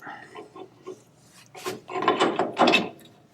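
A lower ball joint on a 2002 Toyota Tacoma is slid back up into place, making close scraping and rubbing metal sounds that build into a few louder grinding shoves, with no speech.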